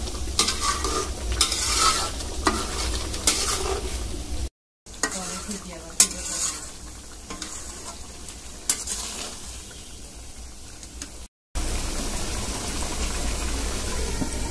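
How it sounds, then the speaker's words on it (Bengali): Potatoes frying in a boal fish curry, an intense continuous sizzle with repeated stirring and scraping in the pan, close and loud, briefly cut twice. "আমার তরকারি, আলুটা কষানো হয়ে গেছে।"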